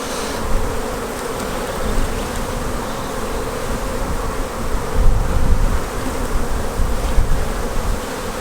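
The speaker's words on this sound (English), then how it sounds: "There's obviously plenty of bees in here." Honey bees in an open beehive drone in a dense, continuous buzz, close and steady for the whole stretch, with no talking over it.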